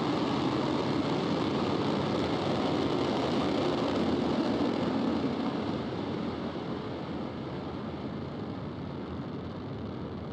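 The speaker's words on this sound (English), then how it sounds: "And we have a successful liftoff. Falcon 9 has cleared the tower." A SpaceX Falcon 9 carrying Starlink satellites lifts off from Cape Canaveral with a loud, continuous, broad rocket roar that slowly fades as the vehicle climbs away.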